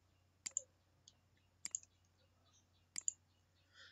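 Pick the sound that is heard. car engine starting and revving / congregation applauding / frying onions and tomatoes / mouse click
mouse click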